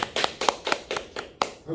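A lecture audience gives a brief round of clapping, a handful of distinct close claps in quick succession before a voice takes over at the end.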